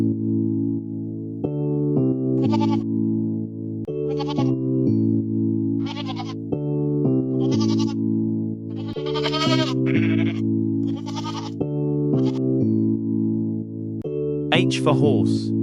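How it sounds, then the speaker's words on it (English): A goat bleats repeatedly in wavering cries over loud, continuous background music, with voice-like sounds mixed in. "G for goat"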